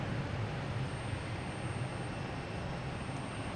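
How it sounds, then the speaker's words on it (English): A Delta jet airliner arrives from Minneapolis at Boston Logan, heard as a steady, broad roar of engine noise held level throughout, with no voices. "oh, we got a Delta coming in from Minneapolis"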